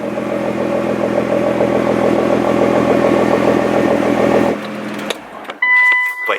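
A Nissan GT-R with an aftermarket exhaust and its valves open idles loudly and steadily up close for several seconds, then cuts out into quieter clatter and a few short noises.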